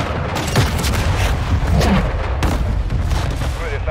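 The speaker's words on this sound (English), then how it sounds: "So pretty powerful explosion, and you can use that in three different areas" Airstrike killstreak in Call of Duty MW2 sets off a string of loud, rumbling explosions and booms, dense and continuous with sharp blasts layered over heavy low-end noise.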